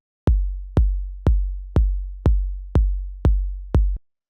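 Eight punchy minimal house kick drum hits, made from a shortened 808 kick, in a steady four-on-the-floor pulse, short decays between beats, dry and alone.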